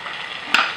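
Minced pork fries in a pan with green beans for a spicy Szechuan dish, giving a brief steady sizzle that ends in one sharp scrape or clatter from stirring.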